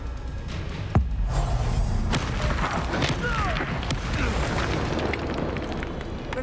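A Confringo fire spell blast in Hogwarts Legacy lands with a sharp impact, then rolls into a long, roaring, crackling rumble of debris and fire that fills the rest of the moment.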